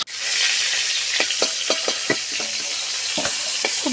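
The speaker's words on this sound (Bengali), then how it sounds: "এরপরে সেই পটলগুলোকে খুব ভালোভাবে নেড়েচেড়ে ভেজে নিতে হবে।" Pointed gourd pieces coated in salt and turmeric fry in oil in a kadai, giving a constant close sizzle punctuated by repeated sharp scrapes and clicks of stirring; no voices.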